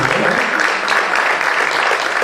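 Congregation at a Korean church service claps for a pastor, a dense, steady wash of applause that holds at an even level for a couple of seconds, with a faint voice murmuring underneath.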